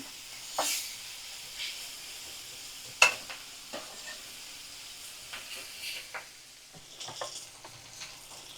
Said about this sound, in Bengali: তো পেঁয়াজটা লাল করে ভাজা করে নিতে হবে।